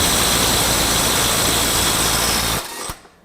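A Milwaukee M12 FUEL 2565 right angle impact wrench hammers loudly and steadily on a bolt for about two and a half seconds before cutting off abruptly, leaving a brief faint tail.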